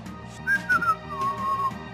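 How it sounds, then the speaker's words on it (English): Someone whistles a few short, clear notes that slide up and down, close and fairly loud, in a quick two-second phrase with no talking. "Nobody whistles in my face."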